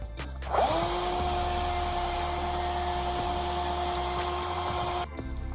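A power tool, likely a small rotary tool or drill, cuts into a plastic project box with a steady high whine lasting about four and a half seconds, close and loud, with no talking.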